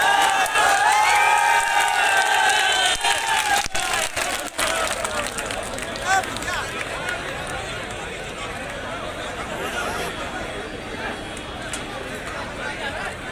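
Applause and cheering from a crowd welcoming Sachin Pilot and Digvijaya Singh at a public rally in Biaora, mixed with shouting voices and an amplified announcer, loud at first and then fading to a steady murmur.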